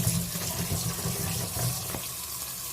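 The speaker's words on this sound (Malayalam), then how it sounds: "അതായത് കപ്പ കുറച്ച് വെള്ളം ഒഴിച്ച്" Water is poured over peeled cassava to wash it, a close, steady splashing and trickling that runs for nearly three seconds, then stops abruptly.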